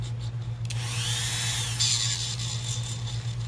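A Dremel rotary tool roughs up the back of a resin cabochon, giving a steady, close whirring drone with a high grinding whine that rises and shifts in pitch as it presses on the resin.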